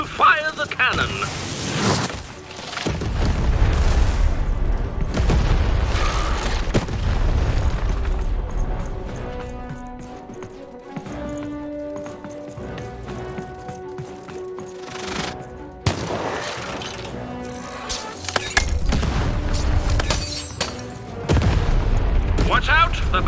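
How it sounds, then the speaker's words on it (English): In the video game Lost in Random, a cannon fires in loud, booming blasts that cluster at the start and again near the end. Game music plays in the quieter stretch between them. "Shoot the button to fire the cannon."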